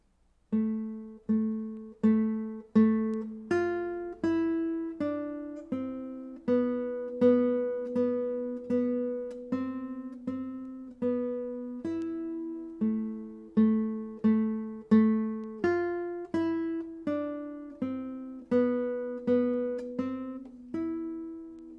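A plucked guitar plays the opening melody of Carcassi's Etude Op. 60 No. 7, slow and steady, each note ringing clearly and decaying, with a repeating bass note beneath the tune.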